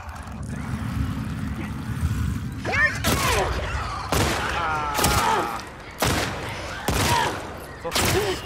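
Gunfire in The Last of Us Part II: a run of about six sharp, loud shots at roughly one-second intervals, cutting through a rumbling game background with a voice and creaks between blasts.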